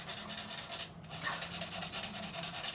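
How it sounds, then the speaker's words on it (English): Sandpaper rubbed back and forth over the frets of a Harley Benton electric guitar, a close, rhythmic scratchy hiss in quick repeated strokes with a brief pause midway. "we're going to go with 7 grits of sandpaper all in all"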